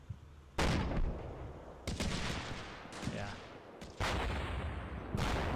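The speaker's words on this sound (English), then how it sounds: "there was some 50 cal fire coming in, and that's more Mark 19 fire" Heavy .50 cal machine gun and Mark 19 grenade launcher fire in the war game Combat Mission Shock Force 2, loud sustained bursts starting and stopping in several waves.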